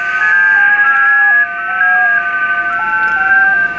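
A J65 mode digital signal comes through the speaker of an ICOM IC-746 radio under repair: loud, steady electronic tones stepping between pitches in a continuous pattern, with no voices.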